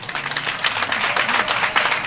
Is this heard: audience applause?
yes